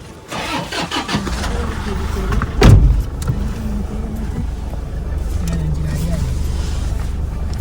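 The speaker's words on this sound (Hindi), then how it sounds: "गाड़ी आ चुका है" A car arrives on a road near the Bodh Gaya temple area, its engine running close by with a rising burst and then a steady idle-like rumble, while people talk over it.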